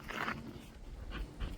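Dogs at someone's feet, one biting at an ankle, make a few short, close snuffling and whimpering bursts over a quiet background.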